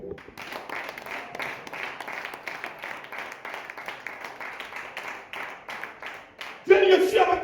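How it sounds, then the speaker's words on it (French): Congregation at a church service clapping in a steady, continuous rhythm, a loud burst of applause and acclaim swelling near the end. "On acclame le Seigneur."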